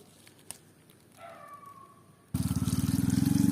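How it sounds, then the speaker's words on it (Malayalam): Water pours from a tap over freshly picked thazhuthama leaves being washed, a quiet trickle building into a loud, steady gushing splash in the second half, with no talk. "ഇത് നല്ലപോലെ വെള്ളം ഒഴിച്ച് നല്ല വൃത്തി കഴുകിയെടുക്കാം"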